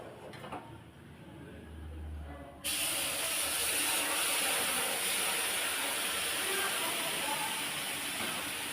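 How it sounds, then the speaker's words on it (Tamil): After a quiet start with faint stirring, boiling water hits hot roasted semolina (rava) for rava kesari with a sudden loud hiss that keeps sizzling steadily. "இப்போ இந்த ஸ்டேஜில் நம்ம கொதிக்க வச்ச தண்ணியை சேர்த்துக்கலாம்"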